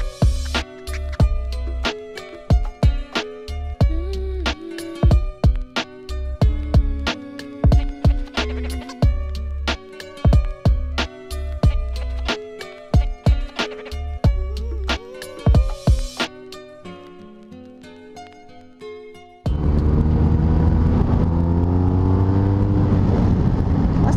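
A BMW R1250RS motorcycle rides with a repeated rising and falling engine note as it accelerates, brakes and pulls again, punctuated by sharp clicks. It ends in a steady rush of wind.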